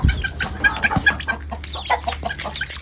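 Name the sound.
chickens clucking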